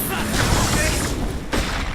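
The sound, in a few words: vacuum wall breaking in the video game Phantom Dust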